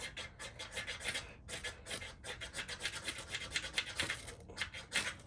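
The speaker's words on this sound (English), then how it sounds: "scraper, or you could use a knife, and just scrape it if I can get it closer" Steady rasping scrapes of a metal scraper drawn along a well-used ferrocerium rod, used to start a fire outdoors. The close, gritty strokes repeat in a quick uneven rhythm throughout, with no talking.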